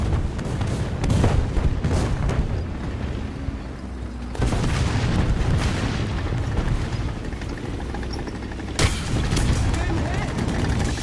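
Gunfire and booming blasts from the Metro 2033 video game, with repeated loud bursts and rumbling explosions over a dense, noisy bed, several sharp onsets spaced across the stretch.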